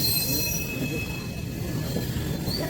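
An Indian Railways train rolls along the rails nearby, its wheels giving off a high, sustained squeal over a continuous low rumble.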